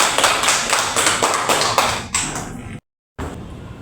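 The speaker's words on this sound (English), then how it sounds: "give applause for Nelchi." A small classroom group claps after a student's public-speaking presentation, a brief, close burst of hand claps that breaks off abruptly.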